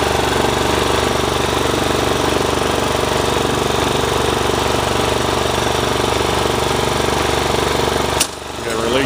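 A Cub Cadet CC 760 ES riding mower drives in first gear, its engine a loud, steady, close rattling drone that holds evenly before dropping in level near the end.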